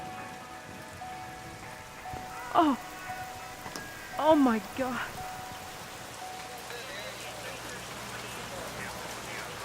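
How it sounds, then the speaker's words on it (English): Rain falls steadily as a thunderstorm sound effect, a constant hiss under the scene, while a voice exclaims briefly in the middle and a low rumble enters toward the end. "And feel the rain on your face."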